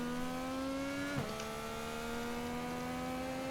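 An Indycar engine in iRacing running a slow safety-car throttle map hums with steady harmonic drone, pitch easing briefly then climbing gradually, no talk over it.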